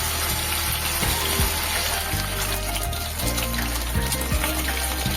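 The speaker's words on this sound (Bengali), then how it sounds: "এরপরে একে একে মাছগুলো তেলের মধ্যে ছেড়ে দিচ্ছি" Loud, steady sizzling and bubbling as Bhola fish are added one by one to hot oil, with a few sharp clinks and bumps of a pan.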